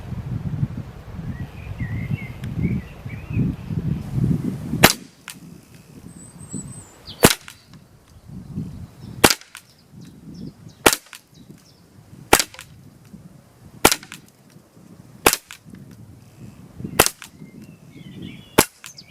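Umarex Glock 17 dual-ammo air pistol firing eight sharp, evenly spaced shots about two seconds apart, each a loud crisp crack standing alone against quiet outdoor ambience with faint birdsong.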